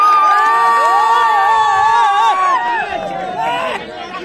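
Crowd at a village kabaddi match in Ghazipur cheering and shouting after a raid, loud, close whoops and excited voices overlapping, then the din thins slightly toward the end.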